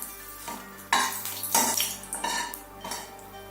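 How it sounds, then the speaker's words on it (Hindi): Dried red chilies fry in hot oil in a pan, with a soft sizzle under repeated clinks and scrapes of a spoon against the metal pan, close and moderately loud. "तेज पत्ता और सूखी मिर्च को तब तक पकाऊंगी जब तक इनसे जो उनका फ्लेवर जो है वो निकल के नहीं आ"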